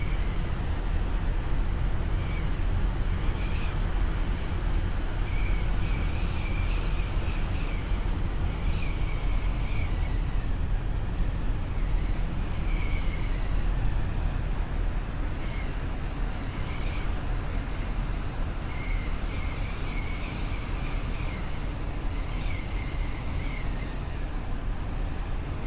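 Aircraft engine in Microsoft Flight Simulator during a descent, a steady, broad drone with rushing airflow and faint repeating higher tones, continuous and unbroken throughout.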